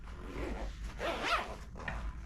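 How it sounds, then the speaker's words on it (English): A zipper is drawn closed along the heated bag of a Record Pi record flattener, a close, fairly quiet rasping pull in a few short strokes with no speech. "and you zip it on up."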